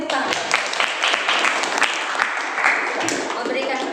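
Classroom applause from students, a dense patter of many hands clapping steadily for several seconds with voices mixed in.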